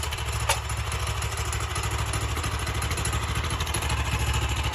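A custom quad build's engine runs steadily nearby with a constant mechanical clatter and rumble, holding a fairly even level throughout without clear revs, and no one talks.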